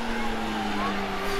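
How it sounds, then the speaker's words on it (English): A safety car ripping round a race track at a BMW racing event, its steady engine drone with a sustained tonal note running continuously under crowd and speaking voices. "we do have the safety car out, which is absolutely ripping round"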